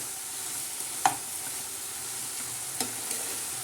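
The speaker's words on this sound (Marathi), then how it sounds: "तर हे बघा, असं छान असं हलवून घ्यायचं." Fenugreek leaves and moong dal are stirred in a pan under a quiet, steady low sizzle, with two distinct spatula scrapes a couple of seconds apart.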